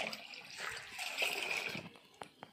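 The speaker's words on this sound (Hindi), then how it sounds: "अब पतला में पानी डाल देते हैं," Water poured into a cooking pot set on a village stove for chicken biryani, a steady close splashing pour with a few small knocks near the end.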